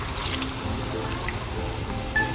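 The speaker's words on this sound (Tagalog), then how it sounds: "Lalagyan ko po ng kaunting tubig." Water is poured into a cooking pan holding washed fresh sweet potato tops for a home-style sauté, giving a soft, low-level wet trickle and dripping over steady background noise, with no talk.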